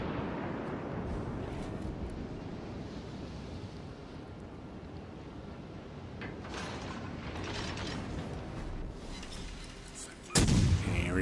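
Naval guns of the cruiser Suzuya firing at the battleship Tirpitz in World of Warships Legends, heard as a steady rumbling battle din with mechanical clatter, topped by a sudden loud, close blast near the end.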